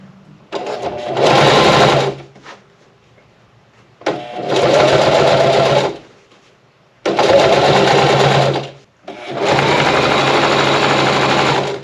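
A sewing machine stitching upholstery for a vintage Porsche 911 Targa runs in four loud, close bursts of rapid whirring and clattering, each lasting two to three seconds, with short quiet pauses between them.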